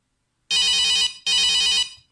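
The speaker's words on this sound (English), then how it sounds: "call alert, ringing tone" A Nokia 6110 cellphone ring tone sounds from the handset speaker in two close, loud bursts of a bright, rapidly repeating electronic tune, separated by a short pause, with no voices.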